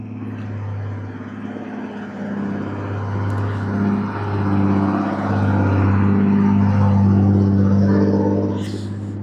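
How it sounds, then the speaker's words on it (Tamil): A heavy lorry approaches and rolls past on a hill road, its engine and tyre rumble swelling steadily and staying loud and close toward the end. "லாரி வருது"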